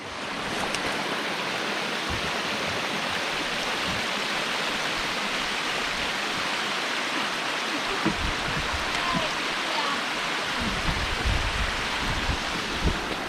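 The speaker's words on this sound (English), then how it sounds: "So it's raining" Rain falls steadily outdoors, a dense, continuous wash of hiss that stays loud and even throughout, with only faint low thumps underneath.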